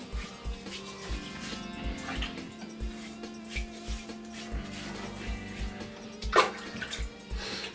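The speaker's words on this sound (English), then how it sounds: "Okay, wet my face." Water splashed onto a face before shaving, with soft repeated splashes and drips from cupped hands in a steady rhythm over a quiet running tap, close and moderately faint.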